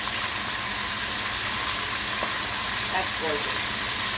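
Chicken breasts searing in a braising pan give a steady, close hiss and sizzle throughout, with a voice speaking briefly over it.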